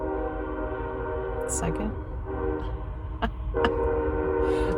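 A train passes nearby near a storm-damaged house, its horn sounding in long steady tones over the rumble, with a voice speaking briefly.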